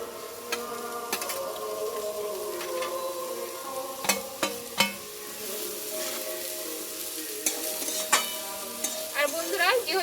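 Chopped red amaranth greens go into a pan already holding turmeric and salt and are stirred, a soft sizzle under repeated clinks and scrapes of a spatula against the metal pan, close and fairly quiet.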